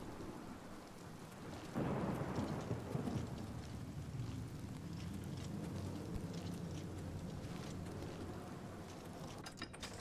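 Heavy rain pours in Oblivion Remastered, a steady broad hiss with a rolling thunder rumble swelling about two seconds in and fading slowly.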